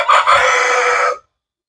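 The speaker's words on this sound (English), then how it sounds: "They're frightening the roosters." Roosters crowing loudly and close by, one long drawn-out call holding steady for about a second before cutting off into silence, with no talk over it.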